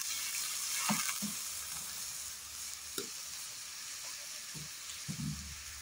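A little water poured into sizzling spice paste in a wok for a cabbage curry makes a steady, fairly faint hiss. Several soft stirring knocks are scattered through it.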